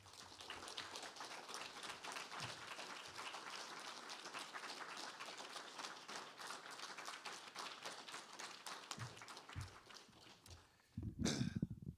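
An audience applauds after a faculty presentation, with dense, steady clapping that carries on for about ten seconds, then trails off into scattered claps as a brief burst of louder sound closes it.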